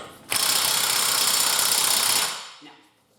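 A loud, continuous burst of rattling hammering from an impact gun on a car half shaft nut during a rear hub replacement on a 2007 Aston Martin V8 Vantage lasts about two seconds, then fades.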